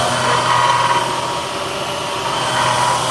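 A CNC Bridgeport mill machining a hay rake bearing holder gives a loud, steady hum and whine with no pauses, filling the short stretch alone.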